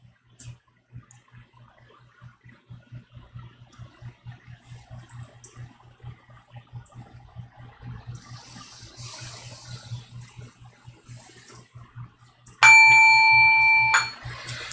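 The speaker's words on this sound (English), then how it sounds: "You want to hit the gong?" A gong at a Buddhist meditation gathering in Brooklyn is struck once near the end, ringing out loud with a bright, sustained shimmer that then cuts off after quiet room shuffling.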